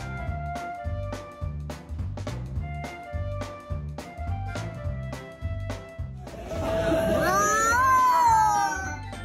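An orange cat meows and complains in a loud, drawn-out wail near the end, over steady rhythmic music with sharp beats.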